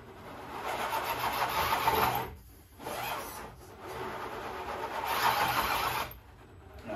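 Absima Sherpa RC crawler with a Quicrun 1080 waterproof controller climbing in reverse indoors, its small electric motor whining in several bursts with short pauses between them, close and moderately loud.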